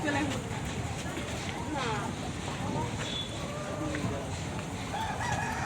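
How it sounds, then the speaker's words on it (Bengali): Hens cluck and a rooster crows on a poultry farm among laying chickens, the calls scattered and fairly near under a continuous background hum, with a person talking over them. "এই যে একটা মুরগি বাইরে বাইরে আছে"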